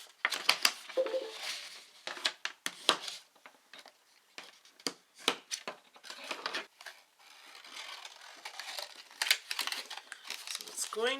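Paper is folded and creased into a tri-fold shutter card, with close crinkling and sharp rustles in bursts, soft handling noises between them, and a voice speaking over parts of it.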